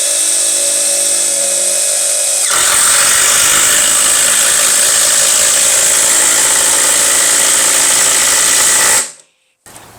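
A Makita 18V brushless impact driver drives a 5/16 by 4-inch Spax power lag screw, giving a loud, steady high-pitched whirring hammer run for several seconds that cuts off abruptly near the end, with no talk.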